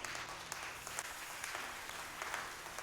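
Church congregation applauding during a sermon: a dense, even wash of clapping from many hands, steady and moderately loud throughout the short burst.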